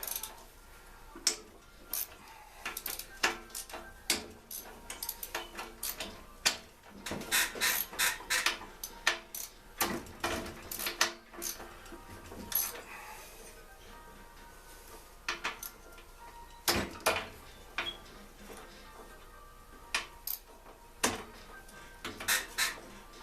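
A ratchet working at the bolts of a Briggs & Stratton engine cylinder head on a Craftsman tiller, with irregular bursts of fast clicking and metallic ticks among pauses and small knocks, close and fairly quiet, no speech.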